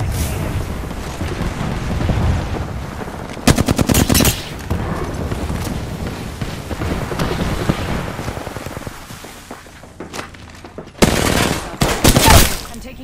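Rapid automatic weapon fire in the battle royale game Apex Legends cracks out in two loud bursts between quieter stretches of background combat noise.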